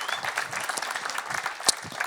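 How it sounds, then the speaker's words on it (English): Crowd applause for the winning player at a World of Tanks WGLU Season 5 esports finals, a continuous spread of clapping from a moderately distant audience with one sharper clap standing out. "Another round of applause for the man"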